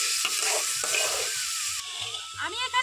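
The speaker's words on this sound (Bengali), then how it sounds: "তো এটাকে খুব ভালোভাবে নাড়াচাড়া করে নেব আর 5 মিনিট মতো এখানে নাড়াচাড়া করে রান্না করে নেব।" Karamcha (karonda) pickle being stirred and cooked in a pan, a steady sizzling frying sound with scraping stirs throughout, fairly close.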